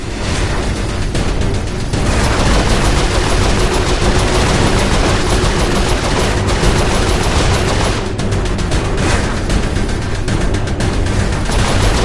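Turret gunfire in Saints Row IV: a dense, loud, sustained burst of rapid automatic shots with booming impacts, continuing without pause from start to finish.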